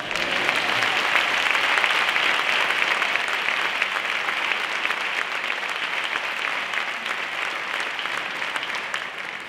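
Sustained applause from a large concert audience for cornet players of a Spanish processional marching band, a dense, steady wash of clapping that fills the whole stretch and tapers only slightly toward the end.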